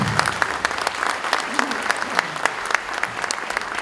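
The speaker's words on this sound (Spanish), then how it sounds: "Recibamos a don Jorge Díaz Herrera con este fuerte y caluroso aplauso." Audience at a book presentation breaks into sustained, steady applause welcoming a speaker, a dense crackle of many clapping hands filling the room throughout.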